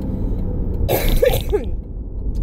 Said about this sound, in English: I'm probably gonna cough a lot